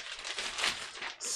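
A plastic bag holding Airfix 1/48 Chipmunk model kit sprues crinkles and rustles continuously up close, with bursts of crackling throughout and no talk.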